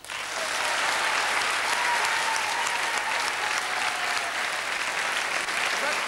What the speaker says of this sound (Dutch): geeft u hem een warm applaus.